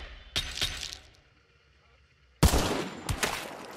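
Gunfire in the first-person shooter Hunt: Showdown: two quick loud shots, a short lull, then a sharp close blast followed by further cracking shots, with faint voices around them.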